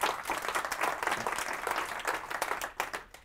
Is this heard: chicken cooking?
no